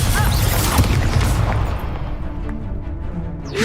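Incendio fire spell cast in Hogwarts Legacy, a loud whooshing burst with a booming low rumble up front that fades into a softer crackling tail.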